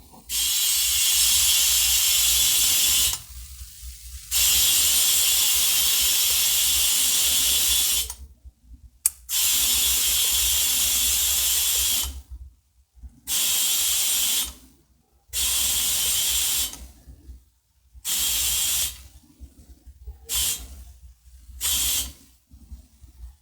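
An air compressor inflates a mountain bike tire through a gauge nozzle in loud, close bursts of hissing air, repeatedly started and stopped, with a rapid mechanical rattle under the rush and short silent gaps between pulses.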